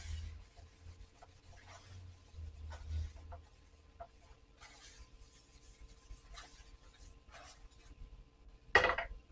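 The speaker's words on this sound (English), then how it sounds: "let's clean off our frying pan" Intermittent scrubbing of a frying pan, with scratchy rasping strokes coming in uneven bursts, then a sharper metallic clatter near the end.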